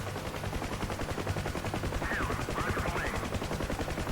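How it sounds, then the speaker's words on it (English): Rapid repeated firing from the UH-1H Huey helicopter in the DCS flight simulation game, a steady pulsing stream of shots over the constant rotor and engine drone. "firing some rockets maybe on that ridge up there"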